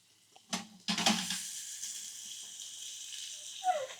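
Meat drops into a hot titanium camping pan with sharp clatters, then a steady sizzle of frying that carries on close and fairly quiet, with no talk.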